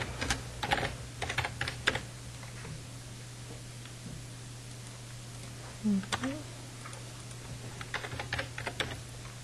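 Computer keyboard typing while a login form for authorized library access is filled in, coming as scattered clusters of light, quick keystrokes over a steady low hum with a brief pause between bursts.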